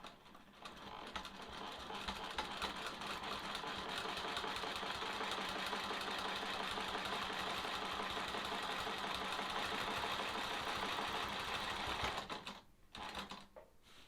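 A home sewing machine runs steadily for about twelve seconds, stitching small quilting stitches on a sawtooth star quilt block, a fast even mechanical whir at close range before stopping abruptly, with a few brief clicks after.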